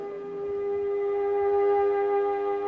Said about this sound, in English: sirens brought stillness to every Israeli for 2 minutes today to mark the Holocaust